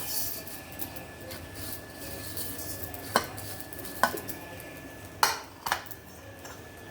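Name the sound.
dry roasting coriander seeds in a pan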